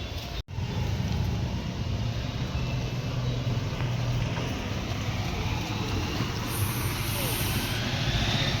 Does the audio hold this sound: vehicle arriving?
yes